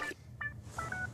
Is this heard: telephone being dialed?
yes